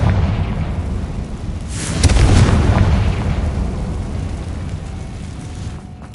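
Confringo fire spell explosion in Hogwarts Legacy, a loud deep boom that swells and rumbles before fading into a long low roar, with no talking.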